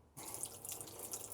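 A live well pump on a 2006 Seafox cuddy cabin boat kicks on and pours salt water in with a steady, close rushing splash, like a running tap, after a brief quiet start.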